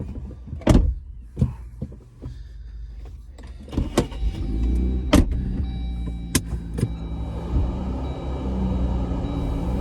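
A car fitted with Centerforce clutch hydraulics starts its first test drive: a few sharp clunks and thumps from inside the cabin come first, then a low engine rumble that builds and holds steady.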